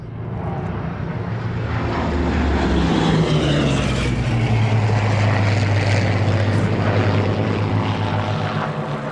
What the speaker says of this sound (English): a display by the Historic Aircraft Collection's Hurricane XII and a Spitfire Mark 1A